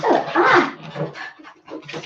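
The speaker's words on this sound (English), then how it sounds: "That's one happy dog." A happy dog gives short whimpering, yipping vocalizations in quick uneven bursts while being offered pumpkin during a pumpkin carving session, close by and fairly loud.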